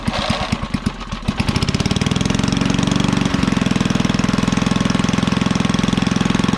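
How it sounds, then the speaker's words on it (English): A 1956 Cooper Cyclo-Mo-18 powered by a Briggs & Stratton engine starts with a few sputtering pops, then settles into a loud, steady, rapid putter as it runs at governed speed. "Runs as good as it always has."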